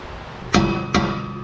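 Two sharp metallic taps from a hammer striking car exhaust headers on a Cadillac CTS-V, close and ringing briefly, spaced about half a second apart.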